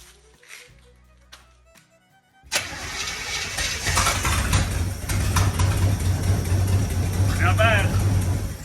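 A 1965 Acadian Beaumont, neglected for years and fed from a temporary gas tank, cranks briefly on the starter and then catches. The engine settles into a loud, steady, rough idle close by.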